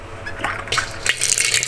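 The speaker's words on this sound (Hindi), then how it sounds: "तो ये दाबड़ा जो है ना बेस्ट है, इसमें पानी भर लेते हैं" Tap water runs and splashes into a plastic tub filling for a baby's bath, an uneven gushing and dripping that grows louder and fuller partway through, close by with no voices.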